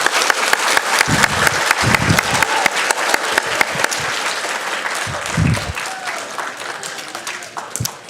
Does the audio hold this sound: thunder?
no